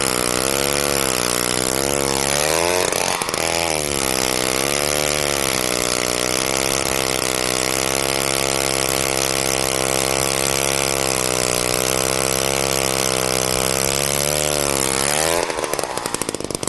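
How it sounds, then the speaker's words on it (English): A gas-powered ice auger drills holes through river ice near Kangirsuk, Nunavik, its engine running loud and close in a steady high whine that rises in pitch, holds for a long stretch, then cuts off near the end. "Tommy Kudluk drilled a number of ice holes."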